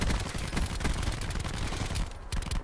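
Gunshots in the video game Call of Duty Black Ops 4 fire in a rapid, loud automatic stream of sharp cracks, close up and nearly unbroken, with a short pause near the end.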